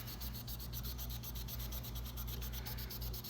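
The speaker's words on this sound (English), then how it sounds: "So I'll sand it nice and smooth, stop the lathe, and then go with the grain all the way around." Lathe-turned whiskey barrel wood pen blank being sanded smooth, a steady close rasping rub with fast rhythmic pulses from the spinning workpiece and a low motor hum underneath, continuous throughout with no talking.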